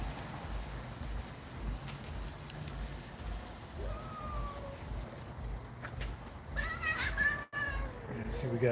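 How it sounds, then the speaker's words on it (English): A cat yowls in drawn-out, wavering cries over steady background noise, growing louder and more insistent toward the end, with a person talking at moments. "Could you hear the cat yelling at him?"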